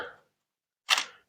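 Scissors cut a price label for seedling trays in two crisp snips, a short faint one at the start and a louder sharp clip just under a second later, with silence between.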